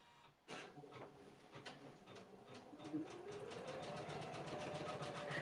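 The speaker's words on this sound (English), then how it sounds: "we're going to start stitching the mama design" A home embroidery machine stitches a mama design onto a sweatshirt, with a fast, steady mechanical rattle of needle strokes that starts abruptly and runs continuously, a rising whine building underneath.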